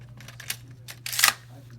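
Parts of a Beretta A400 shotgun slide together with a couple of soft metallic scrapes and then a sharper, louder slide-and-click near the end. The sounds are close and brief over a faint background hum.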